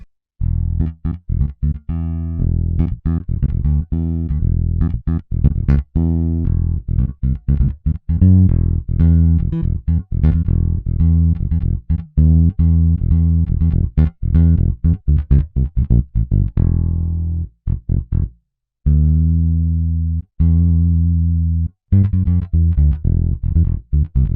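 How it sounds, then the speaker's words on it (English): A bass line played through the Scarbee Pre-Bass Amped Deep plugin: a loud, continuous run of plucked, deep notes in steady rhythm with short gaps, heard on its own. "I always use this one, which is the Scarby Pre-Bass Amped Deep"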